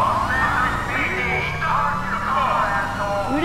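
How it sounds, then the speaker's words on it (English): Police car siren in GTA 5 Online, a loud wailing, sweeping tone rising and falling repeatedly, close and dominant, with a voice talking over it. "Look at this police car! Strange noise!"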